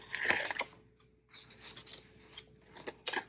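Paper being cut with scissors while crafting grimoire pages for the goddess Hathor, with close, intermittent rasping snips and rubbing strokes separated by short pauses.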